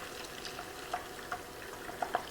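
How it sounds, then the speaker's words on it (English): A batter-dipped Monte Cristo sandwich fries in a pan, giving a soft, steady sizzle with a few faint crackles and pops, close by and quiet, with no talking. "We're just frying a batter."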